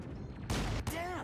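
Gunfire from the Mass Effect video game: a loud burst of shots lands close over a constant background of combat noise, with a short break before a second burst and a voice coming in right after.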